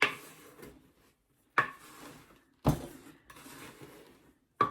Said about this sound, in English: I've got my little wooden paddle, and I'm just going to mix it up a bit and get the chunks out